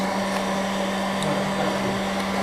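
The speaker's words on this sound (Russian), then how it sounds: "Фен нагревает листок" A construction heat gun blows hot air onto a sheet of paper to curl it for a paper flower, giving a steady, close, continuous whooshing whine with no talk.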